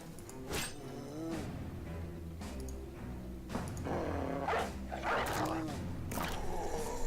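A dog in the video game Battle Brothers barks and yips in short bursts amid game sound effects and background music, loud and close, with the barks recurring throughout several seconds.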